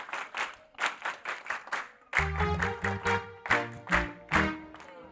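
A church congregation claps together in a steady rhythmic beat, loud and close, with music joining partway through and the clapping continuing over it.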